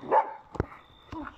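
A dog gives a couple of short barks indoors, moderately loud, with brief pauses between them and a faint steady tone in the background.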